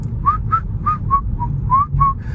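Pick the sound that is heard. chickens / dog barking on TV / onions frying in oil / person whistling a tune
person whistling a tune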